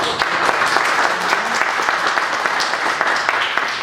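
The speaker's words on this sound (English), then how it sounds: "So a round of applause." Loud, sustained applause from an audience at a community event, many hands clapping in an even, continuous roar for several seconds.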